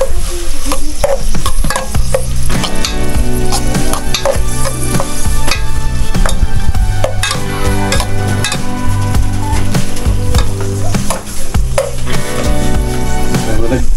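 Steady sizzling of banana heart frying in a pan, loud and continuous, with occasional stirring clatter and scraping throughout.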